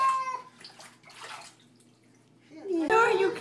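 A pet cat is washed in a bath with warm water, splashing and running water close by, while a person talks and the cat meows.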